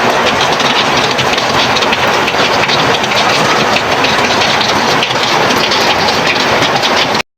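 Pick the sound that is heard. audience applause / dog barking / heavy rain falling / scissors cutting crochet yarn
heavy rain falling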